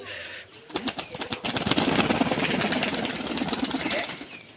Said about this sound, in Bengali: এত মোটা পায়রা ধরে রাখতে পারছে না, হাত থেকে উড়ে চলে যাচ্ছে